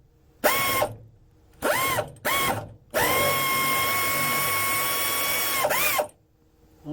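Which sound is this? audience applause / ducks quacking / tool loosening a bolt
tool loosening a bolt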